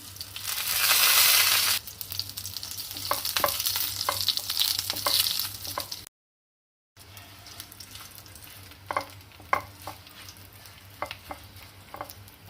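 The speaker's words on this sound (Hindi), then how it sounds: "मिर्चें फ्राई हो गई हैं। इसमें हम 20 से 25 जो है कड़ी पत्ते के" Curry leaves and green chillies frying in hot oil for a green chilli potato curry, a loud burst of spitting sizzle at first, then steady frying with repeated stirring clicks and scrapes, close by with no voices.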